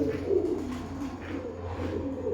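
Pigeons coo in low, throaty, rolling calls, several birds close by overlapping in a continuous murmur with no talk.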